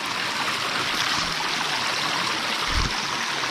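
Water flows steadily along a stream at a secluded bathing spot, a continuous rushing, gurgling wash that stays even and close with no voices.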